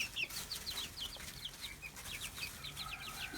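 Backyard brooder chickens cluck repeatedly in quick, chirpy bursts, fairly close but soft, with light rustling and no talking.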